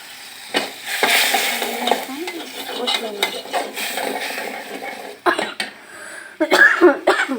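Spice masala with coriander powder fries in a pan while being stirred, a close sizzle with scraping strokes, and a person coughs and clears their throat over it.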